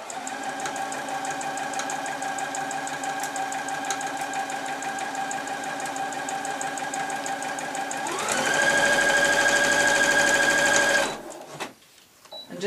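A sewing machine stitches the final seam of a small fabric chicken toy, catching beak and wattle, running steadily and close, then speeding up louder for a few seconds before stopping abruptly with faint handling after.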